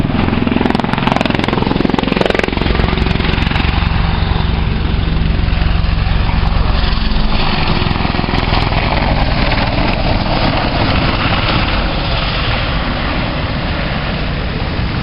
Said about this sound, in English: Performing a number of 60-degree angular bank turns at low level.